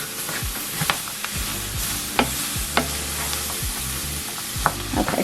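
Vegetables are stirred through a roux in a hot pan, giving a steady close sizzle broken by repeated scraping and spoon knocks, with no voices.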